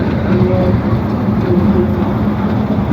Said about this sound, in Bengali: গিয়ে দেখছি যে ট্রেনটা অন করেছে